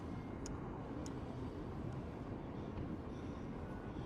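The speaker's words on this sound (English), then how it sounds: "There's the tram." A steady low rumble of a tram passing in Edinburgh fills the scene, with a few brief high squeals above it and no talking.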